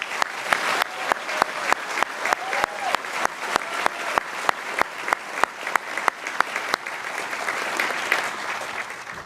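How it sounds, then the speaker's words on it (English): An audience at a University of Texas iSchool graduation ceremony applauds its graduates: sustained, dense clapping fills the hall with sharp individual claps popping out on top, a few faint cheers rising through, steady and loud from start to finish. "join me in a round of applause celebrating all of our graduates this year"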